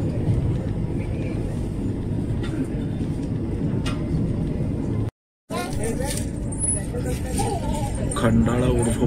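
Steady rumbling roar inside a Vande Bharat express train running at about 110 km/h on the Solapur–Mumbai route, continuous apart from a brief dropout midway, with voices mixed into the noise.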